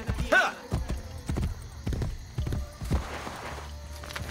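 Horse hooves clip-clopping in the video game Assassin's Creed Brotherhood, a brisk, uneven run of close hoof strikes with a brief whinny near the start and faint background game noise.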